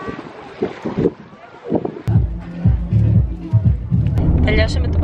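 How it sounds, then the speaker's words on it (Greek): Wind blows by the sea at a swimming spot, buffeting the microphone in gusty, rumbling bursts while people talk nearby over it. "Προς τα εδώ φυσάει."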